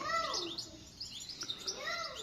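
A young Tunisian parva goldfinch chick, a fledgling just out of the nest, gives repeated thin, high chirps and rising tweets at close range, with brief gaps between calls.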